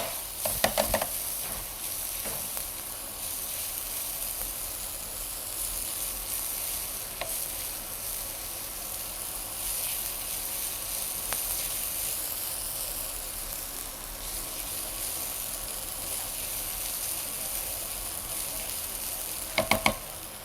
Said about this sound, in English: I'm going to fry up a little bit of the onion and some of the bacon and oyster fat here.